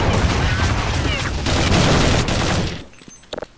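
Dense, loud burst of combat in Counter-Strike 1.6, a grenade blast and rapid gunfire blending into a sustained roar that cuts off sharply, followed by a few brief pops near the end.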